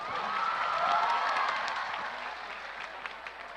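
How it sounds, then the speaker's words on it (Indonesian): Audience applause in a university lecture-hall gathering in Indonesia, a dense wash of clapping that swells briefly then gradually thins out over a few seconds, moderately loud and without talk. "Berikan tepuk tangan 5 juta untuk Naya."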